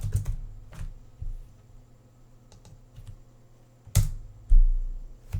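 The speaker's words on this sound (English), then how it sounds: "let's see what they tell us if we type in" Keys tapped on a computer keyboard while entering a street address, heard as sparse, close clicks with a few quiet gaps and a couple of louder knocks near the end, no speech.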